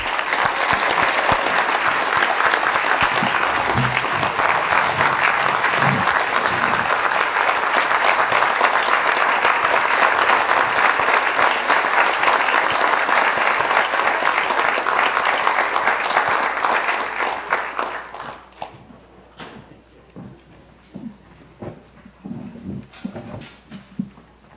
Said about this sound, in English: And if we could all give Gene a round of applause.